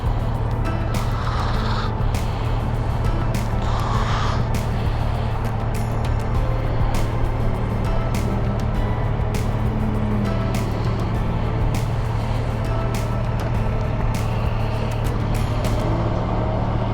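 A loud Audi car drives by outdoors at sunset, its engine roaring steadily and close for the whole stretch and heard over a constant low rumble.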